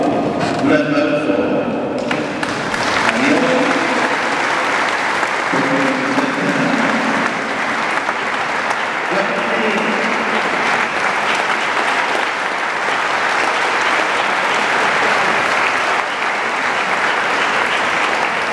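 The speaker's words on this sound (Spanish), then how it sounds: "Un aplauso." Sustained applause from a standing congregation in church during a Sunday homily, steady dense clapping that fills the space for nearly twenty seconds, with a few voices briefly audible at the start.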